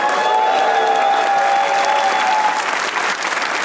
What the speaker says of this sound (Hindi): जानजेब के तालियां भाई